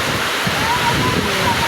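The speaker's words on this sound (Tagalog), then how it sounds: "ang lakas na ng ulan" Heavy rain pours outside a house while floodwater rushes nearby in a river that is rising, a loud, constant hissing roar with a voice faintly beneath it.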